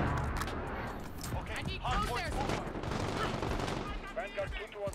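Rapid rifle fire from a Bruen MK9 in the shooter game Modern Warfare crackles in dense bursts, partly buried under loud, excited voices talking throughout.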